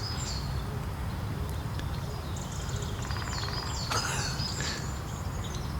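A brief burst of rapid great spotted woodpecker drumming, moderately distant, surrounded by assorted bird chirps and calls, including a robin's ticking, over a low outdoor rumble.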